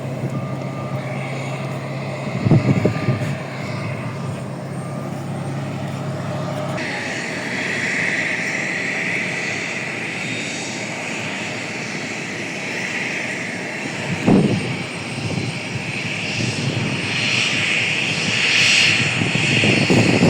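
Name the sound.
aircraft jet engines running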